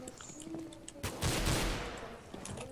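AWP sniper rifle fire in an online shooter game, with a loud sharp blast followed by a rumbling tail amid quieter game effects.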